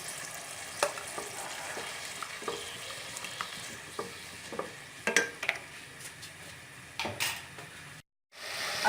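Tomatoes and garlic-ginger paste frying in a karahi, a steady close sizzle broken by repeated scraping stirs and clinks of a spoon against the pan, with a brief silent gap near the end.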